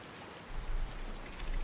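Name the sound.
rain falling in Farming Simulator 19 video game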